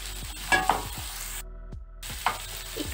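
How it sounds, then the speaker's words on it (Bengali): Chopped beans and green peas stirred and lightly frying in a kadai, with a soft sizzle and spatula scrapes at an uneven rhythm, cutting out briefly to silence midway. "একটু নাড়াচাড়া করে নিচ্ছি"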